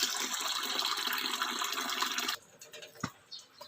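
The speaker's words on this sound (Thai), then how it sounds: "ครับเดี๋ยวผมขออนุญาตล้างแป๊บนึงนะครับผม" Bird feed pellets rinsed in water make a continuous splashing, sloshing wash that stops abruptly partway through, followed by a few soft drips and knocks.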